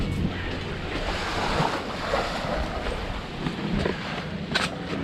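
Ocean surf washes continuously onto a beach on Nusa Penida, Indonesia, a full, steady roar of breaking waves with some wind buffeting and no speech.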